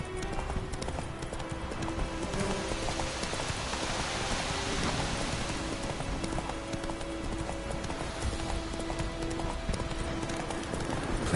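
Roach, the horse in The Witcher 3, gallops through rain with steady rhythmic hoofbeats over a constant hiss of rainfall, heard close and alone for the whole stretch.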